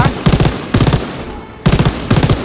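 An MG42 machine gun fires in Call of Duty WWII, three loud rapid bursts separated by short pauses, close and harsh.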